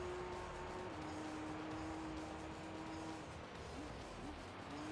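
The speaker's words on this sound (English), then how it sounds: "look at the skyline go" A Nissan Skyline in Gran Turismo 3 A-Spec drives on, its engine a steady, sustained drone with a rising and shifting pitch, continuous and fairly faint.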